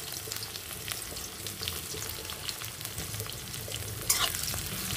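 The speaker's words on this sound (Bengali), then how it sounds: "তো ফোড়নটাকে সুন্দর করে আগে ভেজে নেব বন্ধুরা।" Nigella seed tempering and two medium onions fry in a pan, giving a continuous soft sizzle with occasional stirring clicks and scrapes, without any talking.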